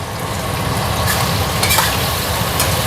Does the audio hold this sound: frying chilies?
yes